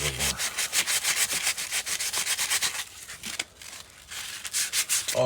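Sanding a Honda motorcycle's triple tree bearing race by hand: steady, close rasping strokes in a quick rhythm, pausing briefly midway before resuming, with no talking.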